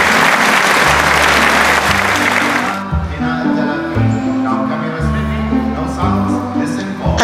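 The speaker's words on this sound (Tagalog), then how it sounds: "Palakpak naman dyan." A loud, dense round of audience applause at a dolphin show in an indoor dolphinarium in Dubai, filling the first few seconds before giving way to rhythmic show music.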